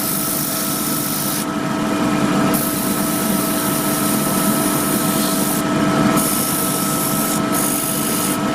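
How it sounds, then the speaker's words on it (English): A steady whir of a spinning lathe with a rough, hissing rub of 100-grit sandpaper against a turned wooden lamp base, sanding into the corners of a bead, constant and fairly loud throughout. "And just sanding into the corners of the bead."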